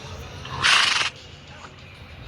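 A horse in a video game lets out a single short, bright whinny lasting about half a second, sitting above faint game ambience.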